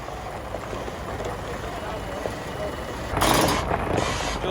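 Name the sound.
truck delivering a load of gravel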